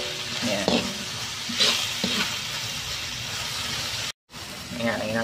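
Tuna sisig frying and being stirred in a pan, a steady close sizzle with scraping strokes of the spatula, a brief dropout near the end, and speech faintly present beneath.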